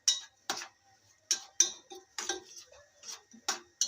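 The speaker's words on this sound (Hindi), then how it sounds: "अब मैं सूजी को भूनूँगी" Semolina roasting in ghee in a pan for halwa is stirred with a utensil, giving irregular sharp scrapes and clinks against the metal separated by short quiet gaps, close and fairly soft.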